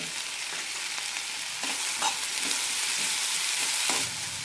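Chopped tomatoes sautéing with softened onions in a pan for an onion chutney, a steady close sizzle with a few soft stirring scrapes, no voices.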